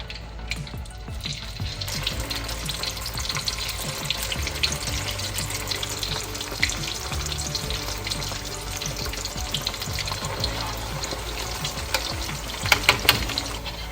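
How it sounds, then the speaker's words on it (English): Potato pieces fry in hot oil until golden brown and crispy, a dense, continuous sizzle and crackle with faint stirring and watery splashes, close and even throughout, without speech. "we're going to fry the potatoes until it is golden brown and crispy for about 7 minutes"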